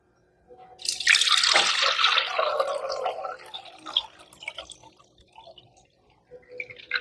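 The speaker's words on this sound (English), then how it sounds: "I'm actually going to strain it from here to here instead of straining it once I pour it into the bottles" Kombucha being strained and poured from one vessel into another: a close, splashing stream starts abruptly, then thins into lighter trickles and drips.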